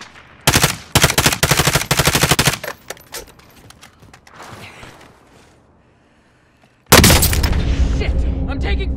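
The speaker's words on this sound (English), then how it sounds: "I'm taking fire!" Rapid machine-gun bursts fire loud and close in a video game, a dense rattling volley that fades into scattered shots before a heavy boom and sustained fire return, with a voice shouting over it.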